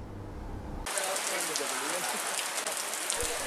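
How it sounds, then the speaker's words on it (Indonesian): Heavy rain pours down at an outdoor polling station during a repeat vote in Pontianak. It begins abruptly as a loud, dense, continuous hiss of drops on surfaces and keeps going steadily after a quieter opening. "Meski di bawah guyuran hujan lebat"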